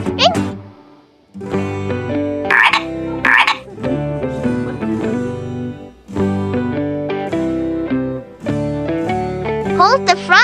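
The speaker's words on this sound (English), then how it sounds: "Frog!" A frog croaks in loud, close bursts, repeating in a bouncy rhythm with short pauses between calls.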